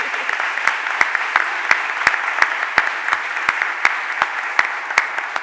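Applause from the gallery in Philadelphia City Council chamber during a stated meeting, a steady wash of clapping with sharp individual claps standing out, moderately loud and continuous with no talk.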